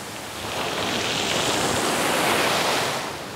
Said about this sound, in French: Pas évident avec ce vent de face.